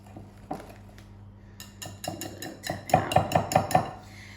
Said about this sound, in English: So we're going to whisk this gently now, just so we don't overwork the batter